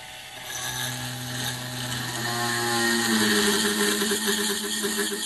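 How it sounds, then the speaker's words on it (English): A small 220V 72W high-speed rotary tool with a 3mm bit whines steadily at full speed, its pitch shifting slightly as it drills through steel, loud and close. "They supply a 3mm drill, so let's try it through the steel"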